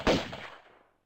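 A single loud gunshot in a video game, sharp onset followed by a decaying echo that fades out within a second, with no talking.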